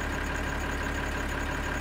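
A steady, continuous engine idle from a yellow-green Bührer tractor in Farming Simulator 2013, a constant mid-to-low drone with a faint high whine, heard alone at moderate level.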